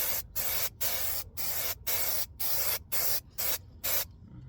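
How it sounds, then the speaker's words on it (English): Aerosol glue sprayed onto foam for a bench seat rehab, in about nine short hissing bursts separated by brief pauses, close and loud with no talking. "I'm going to spray the back of this one with glue"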